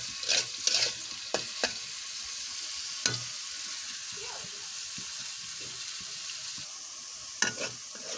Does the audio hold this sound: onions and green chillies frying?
yes